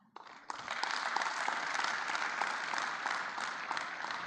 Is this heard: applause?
yes